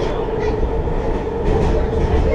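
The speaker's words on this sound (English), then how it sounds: "Oh, that was a switch point." A WMATA Rohr 1255 Red Line metro car rolls through a tunnel over a switch point, a loud, dense rumble of wheels on rail heard from inside the train, with a faint clatter at the turnout.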